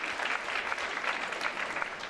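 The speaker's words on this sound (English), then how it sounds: "Can we give her a round of applause?" A round of applause at the Miss Bermuda 2012 pageant: an audience claps steadily in a brief, fairly distant burst with no speech over it.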